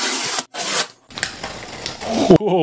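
Close-up rubbing and sliding of cardboard as an iPad Air M2 box is opened, with a brief pause, papery friction, and a short voice at the end.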